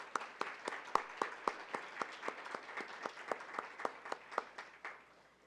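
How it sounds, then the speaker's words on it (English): Audience applause at a college ethnic, gender, transborder studies and sociology summit: a steady round of many hands clapping, with sharp individual claps standing out through a dense wash, fairly even and sustained. "so let's give them a round of applause"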